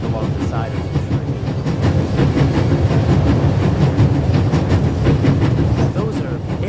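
A moving train in The Raven video game rumbles steadily, with rhythmic wheel clatter and a heavy low-end drone that runs the whole way through, loud and close.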